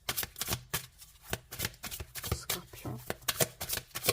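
Tarot cards are laid down and slid over one another on a reading surface, giving a quick series of close, crisp slaps and rustles, with a voice speaking French in the background.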